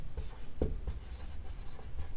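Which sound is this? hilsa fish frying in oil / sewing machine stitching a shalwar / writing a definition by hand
writing a definition by hand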